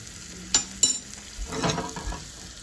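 Turmeric, cumin and other spice powders frying in a pan, a soft sizzle with a couple of sharp utensil knocks and scraping stirs, close and fairly quiet, no speech.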